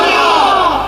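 A large crowd at a religious gathering chants slogans together, producing a loud, sustained roar of massed voices that fills the whole moment.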